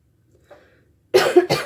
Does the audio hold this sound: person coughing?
yes